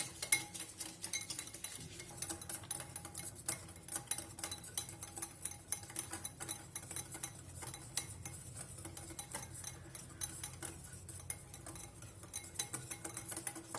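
Coffee and sugar being beaten for dalgona coffee with a hand mixer: a continuous fast rattling of whisk against bowl, steady and busy throughout at moderate level.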